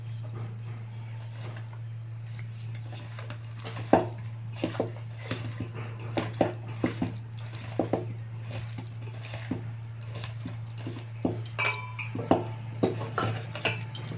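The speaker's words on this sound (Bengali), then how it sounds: "এবার এটাকে ভালো করে মেখে নেব।" Jackfruit curry ingredients being hand-mixed with raw mustard oil and Kashmiri chili powder, soft irregular squelching and clinks over a steady low hum, with a dog whimpering nearby.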